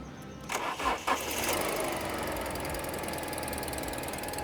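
An Alfa Romeo GTV Italian sports car with an exhaust blow cranks briefly with a few starter whirs, then catches and settles into a steady, close idle that runs on alone.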